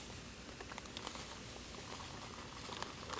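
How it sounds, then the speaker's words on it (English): Dry Cabela's cobbler batter mix tipped from the box into a bowl makes a soft, steady granular hiss and patter. It stays faint and close for about three seconds, with no voices. "Dump them in a bowl."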